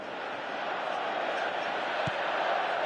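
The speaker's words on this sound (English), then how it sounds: "you can feel and hear how the crowd are reacting to all of this" Crowd noise from a football stadium crowd reacting during a match, a steady broad roar holding at a constant level throughout with no distinct peaks, and no talk heard over it.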